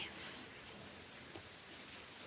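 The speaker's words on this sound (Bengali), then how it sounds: "তো দেখো এদিকে কতটা বৃষ্টি হচ্ছে" Rain falls steadily and softly from a roof, a continuous patter of drops on a surface with no voices and no breaks.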